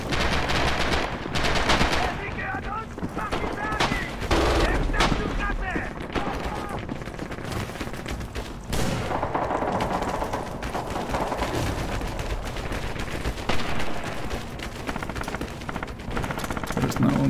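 Full-auto weapon fire in the video game Red Orchestra 2, with dense, continuous bursts of rapid gunshots and sporadic louder blasts rattling throughout, close and loud, with a busy battlefield din behind.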